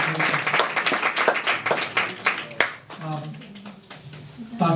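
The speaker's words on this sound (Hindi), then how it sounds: "पर एक बार ताली बजा के उनका स्वागत करें।" A church congregation at a Sunday service claps in welcome, a scattered, moderately loud ripple of applause that swells and thins, with talking over it.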